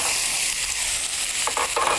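Mushrooms going into onions frying in oil produce a loud, continuous sizzling hiss, with a few short stirring scrapes and clatters near the end.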